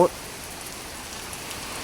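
Rain falls in a continuous close wash of drops on Soi Khao Talo, Pattaya, in the stormy rainy season, an unbroken hiss after a short knock at the start.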